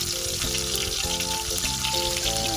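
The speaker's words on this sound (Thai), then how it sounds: "ตอนนี้เราก็นำพริกแกงของเรานะคะ มาผัดกับน้ำมันให้มันหอมๆก่อนนะทุกคนนะ" Curry paste sizzles steadily in hot oil in a pan, a loud, close, continuous frying crackle. The paste is being stir-fried for a northern Thai dish of stir-fried pickled bamboo shoots, with no one speaking.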